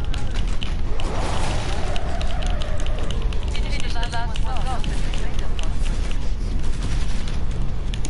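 Gunfire in the video game Killing Floor: dense, continuous bursts of shots and booms filling the scene, loud throughout, with voices talking over the fighting.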